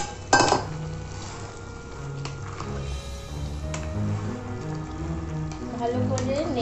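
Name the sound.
stirring fried chicken in a pan for chili chicken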